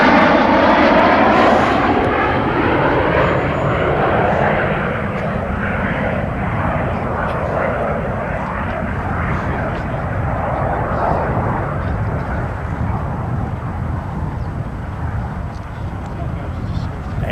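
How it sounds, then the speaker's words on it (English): An old propeller-driven aircraft roars past at an air show in Bruntingthorpe, a loud sustained engine drone with a slowly shifting pitch, while a voice talks over it throughout. "We've got some wonderful old aircraft, huge aircraft as well."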